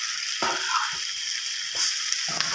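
Ridge gourd sizzles with browned onions in a hot pan, a steady frying hiss broken by several stirring scrapes and thuds as the mix is turned.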